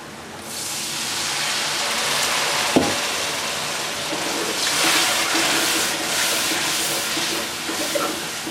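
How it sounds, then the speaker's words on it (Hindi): Water is poured into a hot pan of fried spices for a cabbage, potato and peas curry, giving a loud, steady hissing sizzle of steam that lasts for several seconds, close and without speech. "पानी डालेंगे।"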